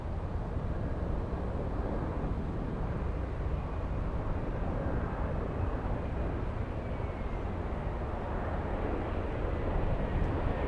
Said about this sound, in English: Let's go for the little E175 coming in.